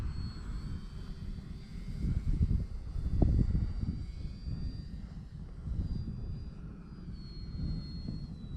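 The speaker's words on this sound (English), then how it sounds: "Very impressive, this little plane." A small radio-controlled model airplane, a Dynam Skytrainer 182, drones steadily at a distance, its engine swelling and fading as it passes, with no voices.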